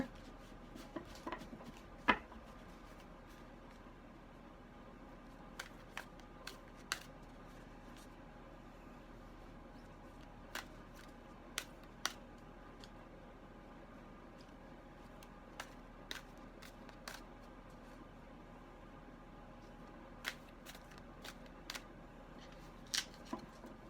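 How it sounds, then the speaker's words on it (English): Tarot cards are shuffled with closed eyes during a reading. Quiet, scattered soft riffles and taps repeat irregularly against a low background hum. "It's not easy shuffling with your eyes closed."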